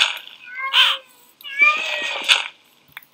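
A cat meows in the Minecraft Mo' Creatures mod, giving two clear, close meows, the second longer and wavering, with quiet background otherwise.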